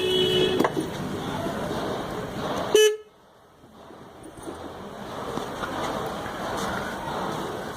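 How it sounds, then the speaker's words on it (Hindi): A Bajaj Pulsar horn, fitted temporarily to a scooter in place of its broken original, gives a loud blast that cuts off abruptly, then quiet workshop background noise returns. "बजाज पल्सर का हॉर्न लगाया है।"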